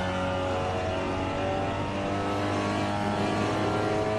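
Sustained engine drone from a SEAT Leon touring race car in Assetto Corsa at Watkins Glen, holding a steady high-revving tone with layered harmonics throughout, loud and continuous with no voices.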